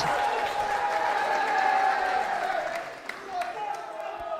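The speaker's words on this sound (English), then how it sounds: "I think those guys are just cheering anyone and everything anyway." A live darts crowd cheers and applauds in a steady, dense roar that swells and eases, with faint shouts over the top and no clear talk.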